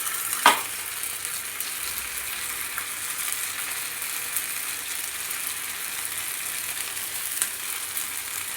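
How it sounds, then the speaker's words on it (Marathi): Semolina rava rings dropped into hot oil fry with a steady, close, crackling sizzle that continues evenly, with a sharper pop near the start. "आता एक एक करून या रिंग्स मी तेलामध्ये सोडून घेते."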